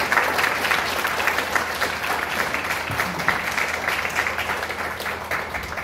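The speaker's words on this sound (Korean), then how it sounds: "큰 박수 한번 부탁드리겠습니다" Audience applause at a science-policy forum in Daedeok, a full, even round of many hands clapping that carries on steadily at constant loudness without any speech.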